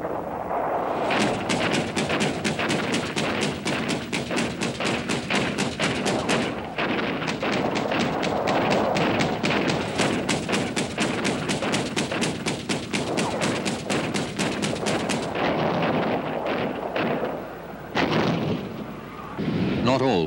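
Anti-aircraft guns fire in rapid, sustained bursts during the conflict with Egypt, a dense rattling barrage that runs for about fifteen seconds before thinning out into scattered shots, with someone narrating over it.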